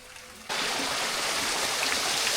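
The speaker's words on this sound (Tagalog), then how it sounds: "Ayan oh, may pa waterfalls pa oh, ang Imeldas." Water pouring steadily in a garden waterfall at Imelda's Garden near the sea, a broad continuous rushing and splashing that begins abruptly and holds loud and even throughout, with no talk.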